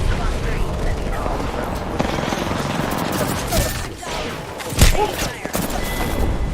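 Bursts of video game gunfire, loud rapid volleys crackling alongside other battle noise, with a heavier thump near the end and voices heard intermittently.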